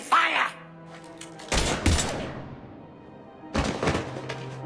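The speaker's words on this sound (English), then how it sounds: "Now open fire!" Bursts of weapon fire crack out in a firefight in the Mass Effect 3 game, two loud volleys separated by a brief lull, with voices speaking around them.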